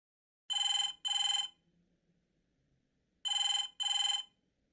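A telephone bell rings in two double-ring bursts separated by a pause, clear, close and alone, before a call is answered.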